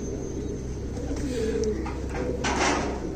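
Indian Kasma breed pigeons coo in soft, repeated low calls close by, over a steady background hum.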